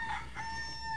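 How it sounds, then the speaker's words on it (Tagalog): A rooster crows once in the morning, a faint, distant call with a clear, drawn-out tone. "Agkakamakaman ti panagtarahok na kiti manok."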